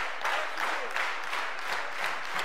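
Audience at a Word of Life camp gathering, standing and clapping together in sustained, fairly loud applause that swells and pulses in waves throughout, with no one speaking.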